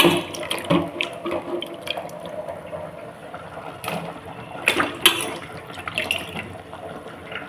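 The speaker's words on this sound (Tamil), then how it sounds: "நல்லா கையால் அழுத்தி பிசைஞ்சு நல்லா அலசிட்டு நம்ம போடணும்" Mutton pieces squeezed and rinsed by hand in a vessel of water for a vegetable curry, giving close, irregular splashing and sloshing with small bursts of dripping, no talking.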